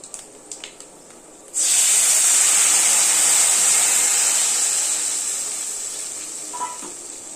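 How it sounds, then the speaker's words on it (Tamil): Tamarind water poured into hot oil tempering for temple-style puliyodharai bursts into a loud, steady sizzle and hiss that starts abruptly and slowly fades, preceded by a few faint clinks. "நல்லா வறுத்தாச்சு. இப்போ புளி தண்ணி ஊற்றிக்கலாம்."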